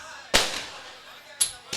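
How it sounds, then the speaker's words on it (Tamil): Firecrackers go off at a village Valli Thirumanam drama festival near Thiruppuvanam: one sharp, loud close bang followed a second later by two quicker, slightly weaker cracks. "இந்த வெடி சத்தம் நாடக சத்தத்தை கெடுத்து விடும்."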